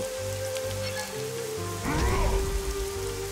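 Steady rain hisses throughout a scene in the video game Evoland 2, with a low game tone underneath and a brief swelling effect partway through.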